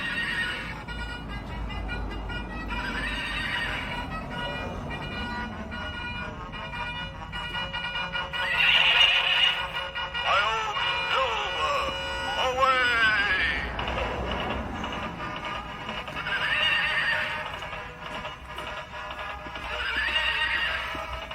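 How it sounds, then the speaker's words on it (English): Whinnies and clip-clopping hooves from a Christmas pageant's donkey sound effects, loud repeated calls over a steady rhythmic trot, with bursts recurring every few seconds. "Was that supposed to be a donkey? With sound effects."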